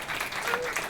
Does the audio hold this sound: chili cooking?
no